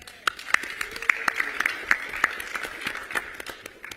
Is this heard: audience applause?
yes